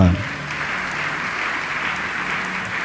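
Applause from a church congregation fills the space, a steady broad wash of clapping heard from within the hall, with a brief louder burst at the very start.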